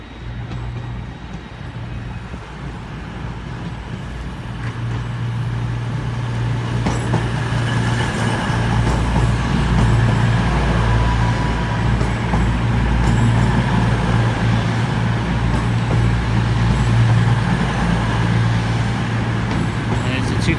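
A Class 220 diesel train pulls into Exeter St David's station, its engine rumble growing steadily louder and holding a low drone with rolling track noise, while someone talks over it nearby.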